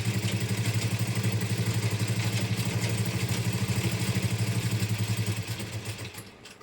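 A faulty sewing machine stitches a nightie with a fast, steady mechanical clatter, loud and close, before slowing and stopping near the end.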